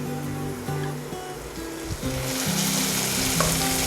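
Dal is poured a little at a time over reddened fried onions in a pan on low flame for Mughlai dal, producing a continuous close sizzle that swells louder toward the end, with no voices.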